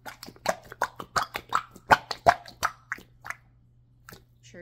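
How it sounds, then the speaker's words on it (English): A squishy mushroom toy being squeezed makes a rapid series of wet, farty plops and squelches, about a dozen close bursts in irregular rhythm that thin out toward the end. "it makes lots of farty, grossy, squishy sounds"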